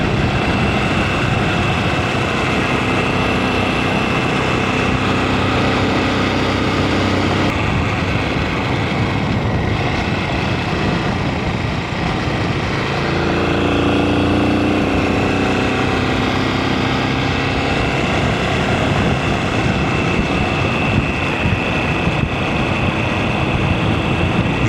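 A tractor engine runs steadily on a road in Madagascar, a loud, continuous droning rumble close by with no pauses or talk.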